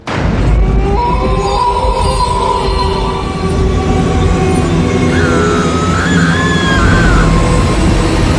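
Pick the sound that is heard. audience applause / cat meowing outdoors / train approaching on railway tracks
train approaching on railway tracks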